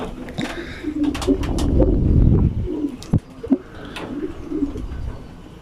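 Pigeons coo in a racing pigeon loft, soft repeated throaty coos and wing flutters close by, with a few sharp clicks and knocks in between.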